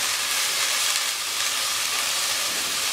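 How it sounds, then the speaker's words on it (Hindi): Ginger garlic paste fries in a pan for a mutton karahi, giving a loud, steady, dense sizzle that holds unbroken for the whole stretch with no voices. "अब हम इसमें डालेंगे अदरक लहसुन का पेस्ट और इसको भून लेंगे थोड़ी देर"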